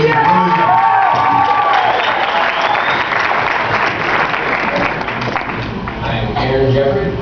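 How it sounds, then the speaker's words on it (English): A comedy show audience claps and cheers loudly for a comedian, steady dense applause with whoops and voices mixed in, a brief dip near the end and then a swell again. "give a big round of applause for Aaron Jeffery"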